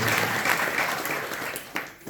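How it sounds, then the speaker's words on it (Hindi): Audience applause at a Jain religious discourse, a dense wash of clapping lasting about two seconds with one sharper burst near the end and no talking over it. "ताली क्यों बजा रहे हो?"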